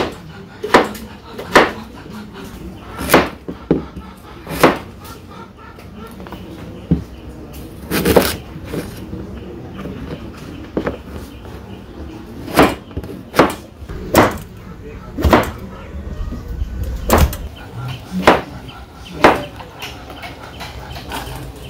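Pointed gourd cut into small pieces on a board, sharp knife chops landing one at a time at an uneven pace, close and fairly loud over a low background hum.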